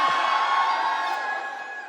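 A crowd cheers for Ranveer Singh at a Franck Muller boutique, a steady wash of shouting and whooping voices that holds loud and slowly fades.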